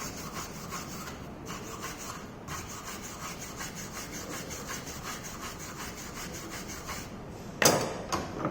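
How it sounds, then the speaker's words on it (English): A hard brush scrubs rust off a metal workpiece in repeated even back-and-forth strokes, a harsh continuous rasp close by, ending with a brief sharp clatter. "here that hard brush removes that rust"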